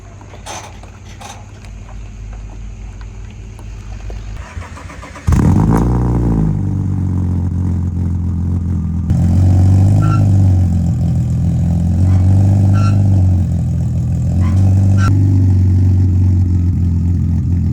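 BMW M3 with an S50 B30 engine, imported from Japan, whirs as the starter cranks and then fires loudly into a steady rumbling idle. The revs rise and fall in several short blips, heard close up with no talk.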